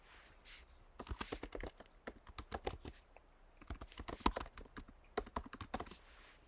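Someone types an email address on a computer keyboard, producing quick irregular clusters of crisp, close key clicks with short pauses between bursts.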